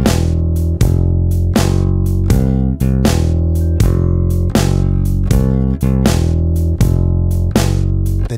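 A bass guitar plays a steady walking line in a 12-bar blues, evenly spaced plucked notes stepping along in a regular rhythm, clear and upfront with no voices.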